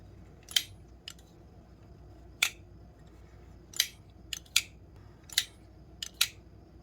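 A thin-walled titanium folding knife snapping shut several times, each closing a sharp, slightly hollow metallic click, spaced irregularly and heard close up in a quiet room.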